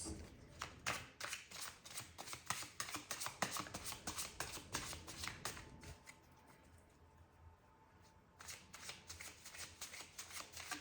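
Tarot cards are shuffled close up with a rapid, riffling flutter that runs for several seconds, pauses briefly, then starts again, quiet and free of talk.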